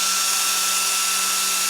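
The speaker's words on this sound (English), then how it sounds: "switch on your source of hot air, the hairdryer" A hair dryer blows hot air into a balloon, giving a steady, loud, broadband whoosh with a constant motor hum and no pauses.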